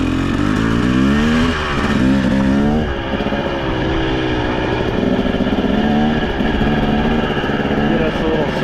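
A dirt bike engine revs loud and close on the Hartman Rocks track, its pitch rising and falling through gear changes during a sighting lap.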